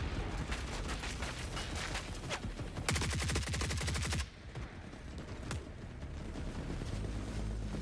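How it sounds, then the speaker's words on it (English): Gunfire in the video game The Forever Winter, loud and continuous, with sustained bursts and a dense rapid automatic volley near the middle, then a brief lull before more shooting resumes. "Why are you shooting?"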